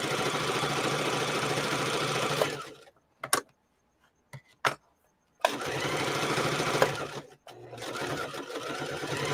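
A sewing machine stitching denim runs in fast rhythmic bursts, loud and close, stopping for several seconds with a few short clicks and stitches before starting up again.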